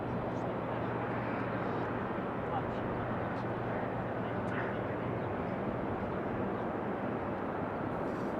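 An Allegiant airliner in Make-A-Wish Foundation livery on final approach at Raleigh-Durham International, a steady broadband engine roar holding evenly throughout, with a low hum beneath.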